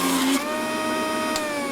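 A 1990 Juiceman juice extractor runs on apple quarters, a loud steady motor whine with a high tonal hum that shifts pitch slightly as the fruit is pressed through, with no talking.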